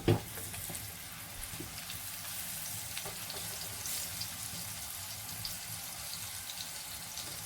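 Aloo paratha, a potato-stuffed flatbread, sizzles steadily in a hot pan after being flipped, a dense close frying hiss after a brief clatter at the start, with no one talking.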